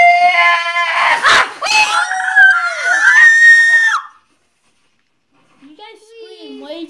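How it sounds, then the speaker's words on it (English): Several people scream loudly and shrilly while playing Halo 4, in overlapping high-pitched bursts for about four seconds, then fall silent before a quieter voice briefly follows. "You guys scream way too loud."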